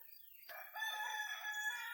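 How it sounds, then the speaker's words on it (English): A rooster crows in the background, a drawn-out, fairly faint cock-a-doodle-doo after a short quiet moment. "Fair chance you guys end up hearing my chickens in the background, and there they are."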